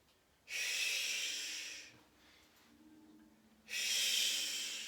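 Two long, breathy exhalations from a QiGong liver healing sound, each a steady hiss of air lasting about a second and a half, separated by a quiet pause, close and fairly loud with no talking.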